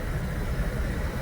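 Steady rushing wind and low road rumble fill the clip, a constant broadband roar like driving along with open windows.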